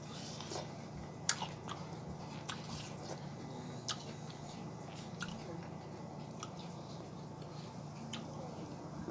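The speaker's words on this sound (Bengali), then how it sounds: "গরমে তরমুজ খাচ্ছি" Watermelon being eaten on a hot day, with soft wet chewing and crisp bites close to the mic, repeating irregularly over a low steady background hum.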